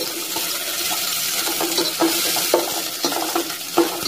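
Onions and ginger paste fry in a handi with a steady broadband sizzle, broken by repeated light scrapes and clinks as the mixture is stirred, close and fairly loud with no talking.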